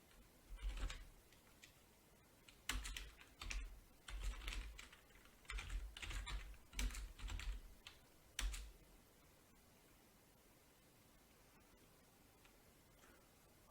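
Typing on a computer keyboard, with quiet clustered key clicks in short bursts over the first several seconds, then fading to faint background hiss.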